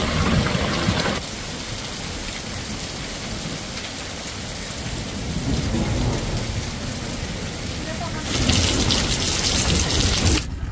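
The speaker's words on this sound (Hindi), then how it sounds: "ये वाली बारिश जो है वो सबसे खतरनाक बारिश में से एक है जो पहाड़ों में होती है।" Heavy rain pours down steadily in the mountains, a dense, loud hiss that swells stronger near the end with no voices over it.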